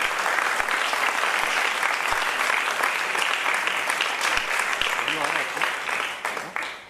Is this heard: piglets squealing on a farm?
no